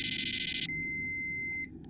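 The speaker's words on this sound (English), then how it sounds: "you press the button. There's a click, a beep" An electronic beep follows a pressed button: a rapid pulsing buzz gives way to a steady high-pitched tone that holds for about a second and then cuts off, fairly quiet, with no voices.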